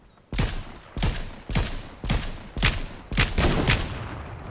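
Regular bursts of gunfire from the video game Fortnite Battle Royale, about one shot every half second, loud and evenly spaced, with no talking.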